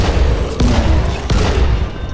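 An explosive arrow detonating in the video game Dying Light, two loud booming blasts about three-quarters of a second apart over a dense, rumbling background of game noise.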